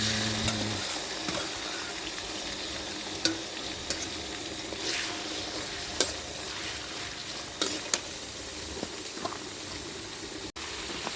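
Food frying in a pan of oil that is not very hot gives a dense, continuous hiss, close and even, with occasional soft clinks of a utensil and no voices.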